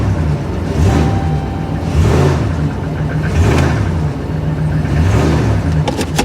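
A Ford Mustang EcoBoost engine revs up and down in repeated, steady surges while in gear with the e-brake set, a loud, close mid-pitched roar with no talk over it.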